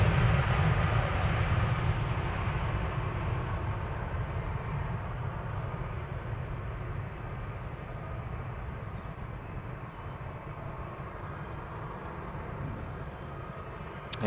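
Continuous jet engine roar of a KLM airliner taxiing at Amsterdam Schiphol Airport, a broad, steady rushing hum that eases slightly over about fourteen seconds with no talking.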